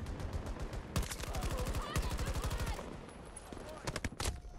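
Rapid automatic gunfire from Battlefield 2042 gameplay, several loud bursts of fast, evenly spaced shots with short pauses between them, followed by a few scattered single shots, all near and heavy.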